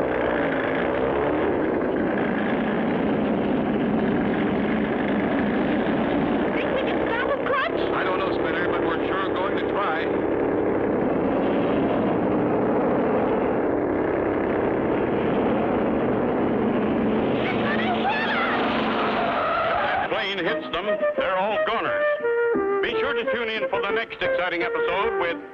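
A cartoon aircraft engine roars continuously through a takeoff in a 1959 animated TV series, a droning propeller sound that carries throughout, with speech over it and a change in the final seconds.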